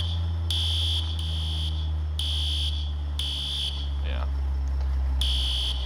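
Emergency fire alarm sounding in repeated high electronic tone bursts at a steady rhythm over a low engine-like rumble, with a brief rising chirp partway through; loud and continuous, no clear talk.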